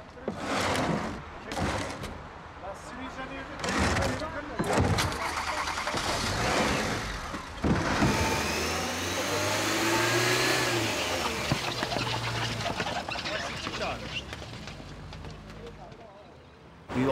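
A car's engine starts and revs, then pulls away at a vehicle inspection station in Turkey, accelerating under steady engine drone while people talk over it.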